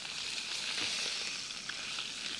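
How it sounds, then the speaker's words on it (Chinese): Chicken pieces pan-frying in oil until browned, a soft steady sizzle with faint crackles throughout, low and even with no talk. "要给它煎的焦一点啊，焦一点比较有香味道。"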